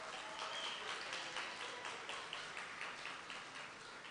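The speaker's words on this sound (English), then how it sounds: "a round of applause for the bride and groom" Guests at a wedding reception applauding the bride and groom, a steady faint wash of clapping from a crowd, heard at a distance.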